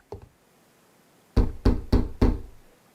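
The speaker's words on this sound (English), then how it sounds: "Holmes has got a heck of a knock, don't he? Sounds like he's going to pound that door down" Heavy knocking on a door by Sherlock Holmes: a faint double tap, a pause, then four loud, evenly spaced pounding knocks, close and alone.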